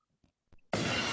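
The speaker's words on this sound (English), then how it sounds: "Sound of glass breaking." A glass breaking sound effect bursts in loud and bright after a few faint knocks, a sustained crash and shatter that fills the rest of the moment.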